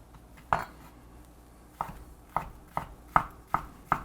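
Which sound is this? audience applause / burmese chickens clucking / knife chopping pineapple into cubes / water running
knife chopping pineapple into cubes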